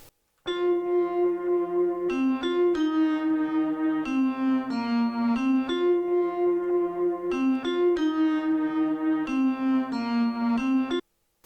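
A sustained, pitched guitar texture run through pedals, from a prototype sample plugin, layered with vibraphone, forms a clean neo-soul chord progression of held tones changing every second or so, loud and alone.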